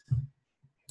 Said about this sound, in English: Click apply.